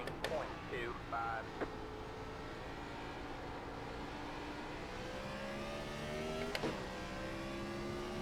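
Race car engine in a sim racing game set at Martinsville, a steady droning whine that rises and falls through gear changes, running continuously with a couple of sharp clicks.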